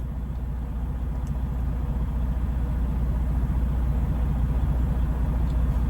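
Low, steady engine rumble from a vehicle idling while stuck motionless in traffic on a long drive from California to Pennsylvania, continuous and fairly loud throughout with no talk.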